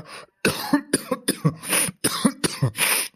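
A woman coughs in a rapid series of harsh, raspy bursts, about seven or eight in a row with brief gaps, close and loud, no talking.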